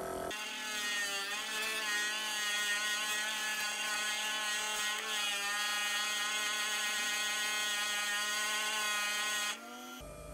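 Amazonite stone towers are polished on a rotary machine, giving a continuous loud whining hum with a buzzy tonal edge that runs steadily for about ten seconds before cutting off.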